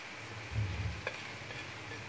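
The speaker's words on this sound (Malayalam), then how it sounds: "അതൊക്കെ നമുക്ക് നന്നായിട്ടൊന്ന് ഇളക്കാം" Spoon scraping briefly through chilli powder, turmeric and spices in a frying pan, a quiet sizzle beneath a short stirring scrape and a light tap, close and soft.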